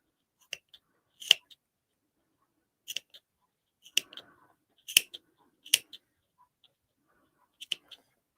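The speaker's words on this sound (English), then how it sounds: "Sometimes these scissors can be like really sharp and snip great" Sewing scissors snipping fabric in a series of sharp, crisp cuts, some single and some in quick pairs, close up and separated by near silence.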